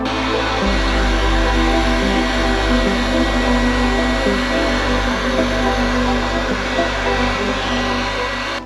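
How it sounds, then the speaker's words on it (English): A heat gun blows steadily on KeelShield keel protection strip for a Yamaha VX110 personal watercraft hull, a loud constant whooshing roar with a low hum that holds throughout without pause. "I've been heating the KeelShield up for about 10-15 minutes."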